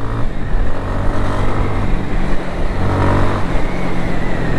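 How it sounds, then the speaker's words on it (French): A Kawasaki W230 single-cylinder motorcycle being ridden, its engine a loud, steady droning rumble mixed with wind and road noise, held constant throughout with no talking. "C'est à 4500 tours que la moto est super sympa à conduire"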